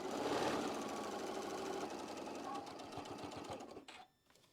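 A sewing machine runs steadily as it stitches a quilt block seam, a close, fast rhythmic whirring and clatter that slows and stops near the end, with a voice speaking over it.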